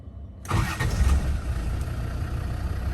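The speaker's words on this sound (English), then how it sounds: "quick video of start up and idling on this 2003 lowish mileage Defender" A 2003 Land Rover Defender 90 TD5 diesel starts after a brief silence, firing up abruptly and settling into a steady, low idle that rumbles on close by.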